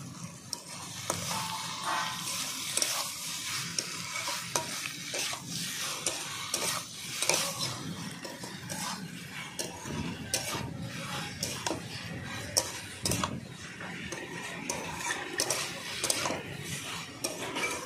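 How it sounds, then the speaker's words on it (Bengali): Boiled string beans with chopped coriander leaves and spices stirred and sautéed in a pan, a constant close sizzle overlaid with rapid scraping and clinking strokes of a spatula, no talking. "সিমটা আমি 2 মিনিট ভালো করে কষিয়ে নেব সব মশলা একসঙ্গে"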